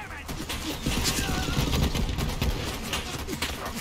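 Rapid bursts of gunfire and grenade blasts fill a Borderlands 3 firefight, dense and continuous, while a player talks over the action.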